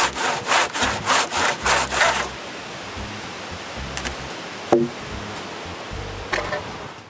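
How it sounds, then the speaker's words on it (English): A handsaw cuts through the wood of a beam in about eight loud rhythmic strokes, each a close rasping push, then the sawing stops and only faint scattered knocks remain. "cut with a handsaw the small amount of wood I intentionally left so the wedge can stay in place"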